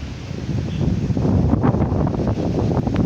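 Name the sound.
wind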